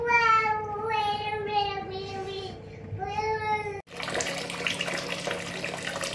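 Items are washed in water. A harmonic, whistling sound comes first, then the pitch cuts off sharply into a steady rush of running water, close and moderately loud.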